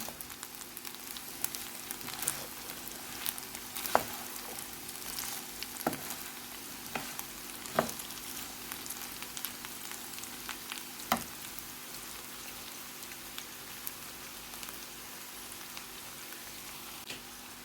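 Cooked chickpeas added to chickpea pilaf in a pot, with a steady soft sizzle and scattered light ticks and pops running throughout at low volume.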